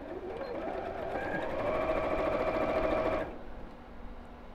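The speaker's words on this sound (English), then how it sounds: "I'm sewing the lining pieces together" A domestic sewing machine stitches lining pieces of a fabric box bag together, a fast steady mechanical whirr running for about three seconds before stopping abruptly, leaving quiet room tone.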